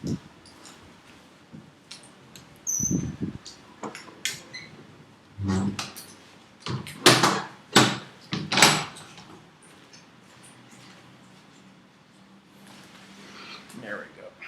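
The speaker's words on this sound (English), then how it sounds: "I should probably shut the door so cut down on that wind noise." A door pushed shut to block wind noise, giving a few loud thuds and bangs midway, with a fairly close person talking over a background of steady wind rumble.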